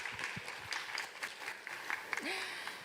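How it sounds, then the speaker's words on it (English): An audience claps to welcome a guest curator at an art talk, a moderate, fairly distant patter of hands that stays under a passing voice and fades in intensity. "let's give her applause."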